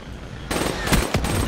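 Automatic gunfire bursts from a Call of Duty Black Ops 3 match, a quick rattling volley of shots that breaks out after a brief quiet lead-in, loud and up close.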